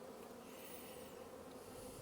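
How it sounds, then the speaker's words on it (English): Honeybees buzzing at a hive in Hawaii, a faint, steady, continuous hum with no talking over it. "look how calm those bees are."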